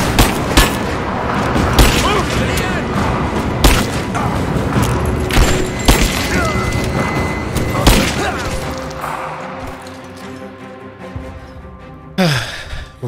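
Gunfire and heavy booms from the video game Rise of the Tomb Raider, dense and loud, with sharp shots and impacts layered over a busy game soundscape for most of the stretch before it thins out near the end.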